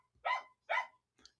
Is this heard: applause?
no